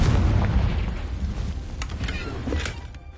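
A loud, booming fiery blast from the Confringo spell in the video game Hogwarts Legacy erupts up close, then rumbles and crackles as it decays over a few seconds, with no talking.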